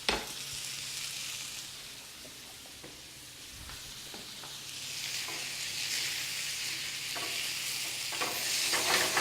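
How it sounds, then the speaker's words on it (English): Potatoes, beans and mushrooms sauté in olive oil with curry powder, a continuous sizzle rising and falling while a utensil scrapes and stirs the pan at irregular intervals, no voices. "Keep them stirring though, because they're going to stick to the pan."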